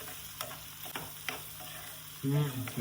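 Garlic frying in hot oil, a steady close sizzle with a few clinking stirs of a utensil against the pan and a louder burst of crackle near the end.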